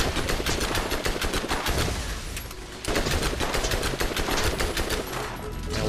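Gunfire in the Borderlands video game, loud rapid bursts of automatic shots with a brief lull midway before firing resumes, dense and close.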